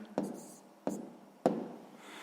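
Pen strokes on paper as a math exercise answer is written down, three short close scratchy bursts spaced apart, quiet and alone.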